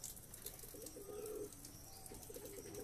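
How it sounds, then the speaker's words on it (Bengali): Lakka pigeons near their freshly laid egg, soft low cooing in two short bursts, faint and close against quiet background hiss, no talking. "এই হচ্ছে পায়রা।"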